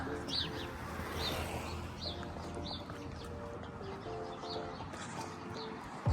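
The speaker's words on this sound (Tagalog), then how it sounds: "Yung mga malapit sa bahay, mga house bird." House birds, pigeons or doves, cooing softly in repeated low phrases near a home, with faint chirps from other birds in the background and no talk.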